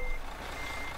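Steady electronic reversing beeps from a truck in Euro Truck Simulator 2, repeating over a low engine hum with no talk.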